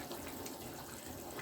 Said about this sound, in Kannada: ನಾನಿಲ್ಲಿ 3 ಗ್ಲಾಸ್ ನೀರು ಹಾಕ್ಕೊಳ್ತಾ ಇದ್ದೀನಿ.